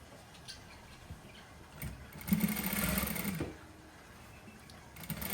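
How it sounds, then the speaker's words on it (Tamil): A sewing machine stitches a shalwar seam, starting with faint scattered ticks and then running in a close, steady mechanical whir for about a second before stopping, with brief clicks afterward. "இப்படியே தைச்சு கொண்டு வரேன். இடுப்படியில் கொண்டு வந்து கொஞ்சம் வளைச்சு தைக்கிறேன்."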